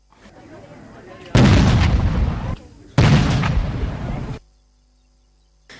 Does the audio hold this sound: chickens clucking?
no